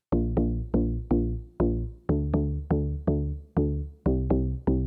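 Serum synth deep house bass line, a bouncy sequence of plucky, decaying bass notes in a syncopated rhythm, clean and prominent with no voices.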